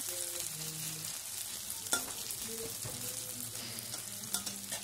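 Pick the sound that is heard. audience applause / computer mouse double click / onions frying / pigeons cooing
onions frying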